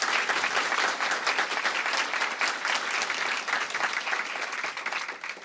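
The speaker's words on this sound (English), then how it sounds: "Give them a big round of applause." Audience applause at a mayoral swearing-in ceremony, a dense, continuous wash of many hands clapping at a steady level throughout, with no voices standing out.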